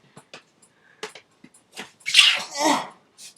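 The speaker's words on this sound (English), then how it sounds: "I just sneezed." A few soft clicks and breaths, then one loud, explosive sneeze with a breathy trailing burst, close up.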